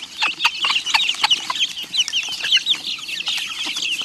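A flock of hens and young chicks around two and a half weeks old, with dense high-pitched peeping and scattered low clucks, busy and close with no pauses.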